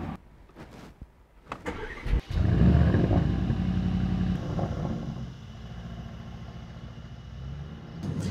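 An Aston Martin Vantage sports car starts after a few clicks and thuds, its engine catching with a loud rev, then settling into a strong, steady run and easing lower toward the end.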